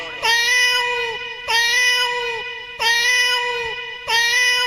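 Four drawn-out meows in a row, loud and close, each one a high tonal wail that fades before the next; a voice imitating kittens.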